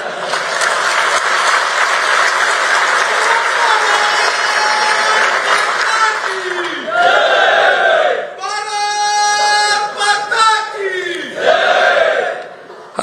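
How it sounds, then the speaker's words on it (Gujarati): Applause and cheering from a crowd at an ABVP student organization office groundbreaking ceremony in Gujarat, a dense sustained clapping that swells in bursts, mixed with shouted voices and chanting. "એની તાળીનો અવાજ તમે પાડી દેતા"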